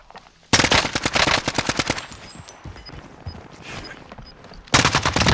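Bursts of automatic gunfire in Call of Duty: Modern Warfare, a rapid loud volley that fades into scattered distant shots and gives way to another heavy burst near the end.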